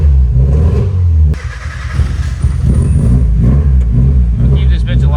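A Mazda Miata engine runs steadily near the microphone, a low rumble with a slight rev change, as people talk over it.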